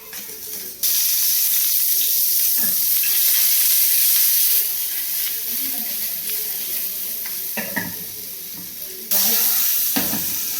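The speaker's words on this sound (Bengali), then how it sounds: "ধুয়ে রেখেছিলাম শুটকিটা, এটা এখন ভেজে নেব" Washed dried fish (shutki) frying in a home kitchen pan, a steady broad sizzle running almost throughout with a few louder spits and stirring clatters; no talk over it.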